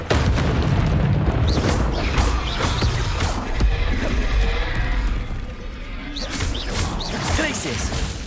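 A fiery blast from the Confringo spell in a Harry Potter video game set at Hogwarts, a loud sustained boom with crashing bursts among other game effects and music.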